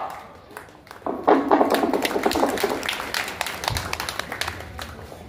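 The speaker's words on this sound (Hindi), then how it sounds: "आप सभी लोग ताली के साथ स्वागत करें" Audience at a community welcome event in Ghazipur, Uttar Pradesh, breaking into scattered, lively clapping that swells then gradually thins, with voices faintly mixed in.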